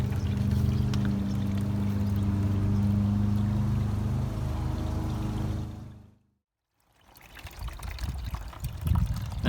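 Water pours down a backyard garden waterfall dosed with blue liquid dye, a steady continuous splashing rush close by that cuts off briefly near the end, then returns softer and more uneven.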